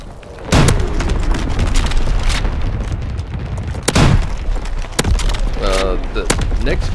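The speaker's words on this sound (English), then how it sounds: "it only shoots 1 big old burst of artillery in there" Artillery strike explosions in Call of Duty WW2, several heavy booms and sharp blasts spread irregularly over a rumbling battlefield background, with some game voice chatter mixed in.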